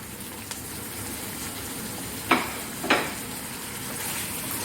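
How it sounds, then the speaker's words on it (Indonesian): Beef, shrimp and meatballs stir-fried for kwetiau goreng, a steady close sizzle with two brief louder scraping stirs of the spatula midway. "Kita akan tumis sampai dia matang."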